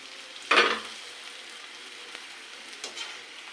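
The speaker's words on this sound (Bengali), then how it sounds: "এইভাবে কিছুটা পিঠে ভাজা করে নেব।" Kuli pitha cakes of rice flour or wheat flour fry in a pan, with a sharp sizzling burst as they go into the oil, then a quieter steady sizzle and a faint clatter near the end.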